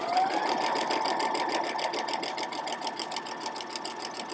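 A sewing machine fitted with a quarter-inch foot runs steadily, stitching a short seam on a quilted reading glasses case, its rapid even whirr sounding close and continuous from start to finish.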